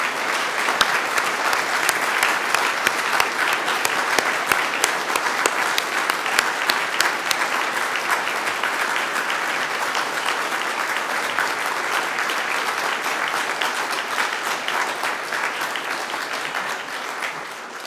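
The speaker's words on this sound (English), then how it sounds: "I'd like you to give them a huge round of applause." Sustained applause fills a university degree ceremony in Dublin as graduates' families and friends clap together, a thick, even roar of many hands that holds steady for well over fifteen seconds, gradually easing toward the end.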